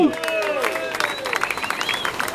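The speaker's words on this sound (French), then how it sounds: "On les soutient très très fort, on les applaudit." An audience applauds in a mix of clapping and cheering, with voices calling out and talking over the steady clapping throughout.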